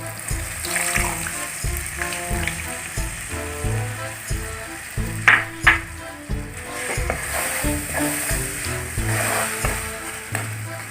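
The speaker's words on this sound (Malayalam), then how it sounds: "ആ പുളിവെള്ളം കൂടി ഇതിൻ്റെ കൂടെ ഒഴിച്ചു കൊടുക്കാം" Tamarind water poured into a hot pan of jaggery for a giant bitter lemon (vadukapuli) pickle, giving a loud, steady sizzle with watery splashing and a couple of sharper bursts, over a tonal background and no talk.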